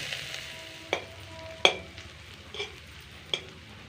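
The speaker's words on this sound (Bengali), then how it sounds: "পেঁয়াজটাকে হালকা লালচে করে ভেজে নেব" Onion frying in a wok gives a soft continuous sizzle, punctuated by a few distinct scraping stirs of a utensil against the pan, close and fairly quiet.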